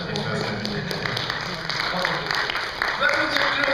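An audience applauds at an award ceremony, a dense continuous patter of clapping that fills the room at moderate volume and swells slightly toward the end.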